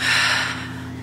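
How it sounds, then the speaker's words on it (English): A person on a walk takes one deep breath, a close, loud airy inhale that fades out over about a second. "So first, I want you to take a nice deep breath."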